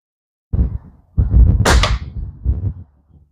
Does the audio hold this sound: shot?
yes